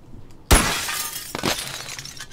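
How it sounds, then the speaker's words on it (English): Glass shatters with a loud, sudden crash in the VR game Bonerworks, followed by a spray of tinkling shards and a couple of smaller follow-up breaks as the pieces settle. "That is definitely glass."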